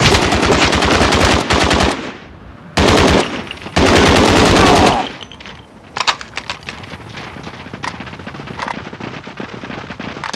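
Submachine gun fire in Call of Duty Declassified on PS Vita: long, loud, rapid bursts of automatic fire with short gaps between them, then scattered quieter shots and echoing gunfire in the background.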